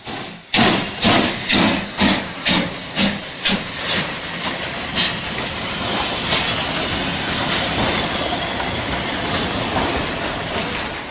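A German World War II Kriegslok steam locomotive hauling a heavy train: loud rhythmic steam chuffs at first, fading into a continuous roar of hissing steam and rolling wagons, with no talk.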